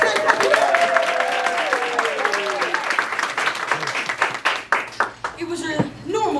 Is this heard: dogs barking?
no